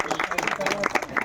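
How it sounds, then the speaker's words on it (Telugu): An audience at a beauty pageant function claps in short, patchy bursts while a voice keeps talking over it. "చప్పట్లో కొట్టండి"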